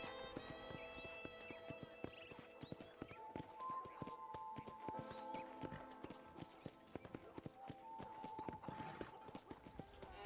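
Steady clip-clopping hooves of a ridden horse in Red Dead Redemption, a close, even walking rhythm with a few whinny-like tones and faint voices underneath.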